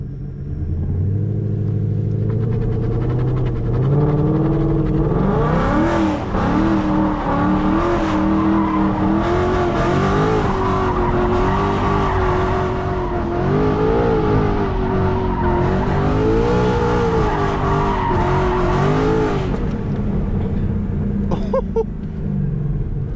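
Ford S550 Mustang spinning donuts, its engine revving hard and rising in pitch while the tires squeal and skid continuously, loud and close for most of the run before easing off near the end.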